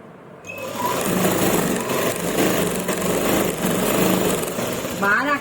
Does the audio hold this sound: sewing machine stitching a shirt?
yes